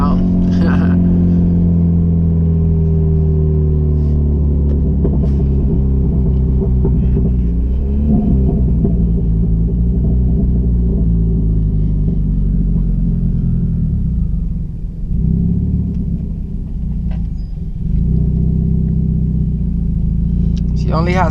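Freshly rebuilt Chevrolet Cruze engine running, a loud close rumble with rising and falling revs and a steady throb, with a few brief dips near the end.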